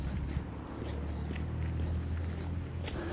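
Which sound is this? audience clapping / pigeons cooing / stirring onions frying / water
water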